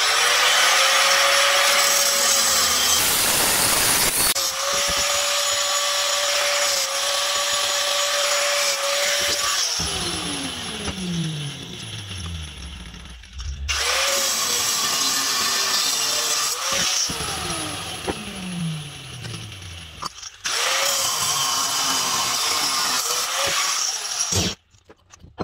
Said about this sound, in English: I'm gonna cut the bar and the three pieces of bar